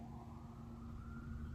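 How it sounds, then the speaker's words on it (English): Emergency sirens sound outside, faint and distant indoors, a steady wailing tone under a low background hum. "there's really some sirens going on outside."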